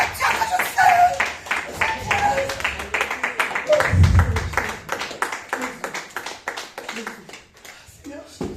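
A church congregation claps in rhythm during worship, steady hand claps running under loud voices singing and calling out.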